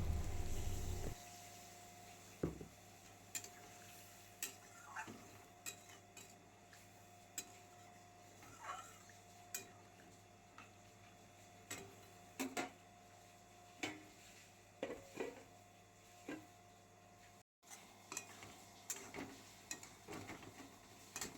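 Fried potatoes with poppy seed and green chilli paste stirred in a pan, giving faint, sparse scrapes and ticks at irregular intervals over a quiet background.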